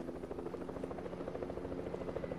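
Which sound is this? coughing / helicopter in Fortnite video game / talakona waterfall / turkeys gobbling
helicopter in Fortnite video game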